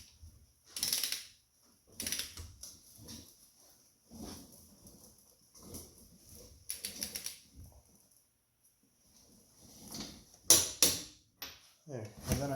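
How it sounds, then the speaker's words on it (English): A torque wrench tightens car wheel lug nuts in a crisscross pattern, close ratcheting clicks in short bursts with pauses between, including a sharper click run near the end. "I've just gone through and tightened all the lug nuts to spec with the torque wrench"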